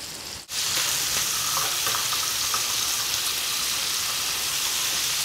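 Fatty bacon fries in a pan with a loud, steady sizzle and crackle that runs unbroken after a brief dip near the start, with no voices over it.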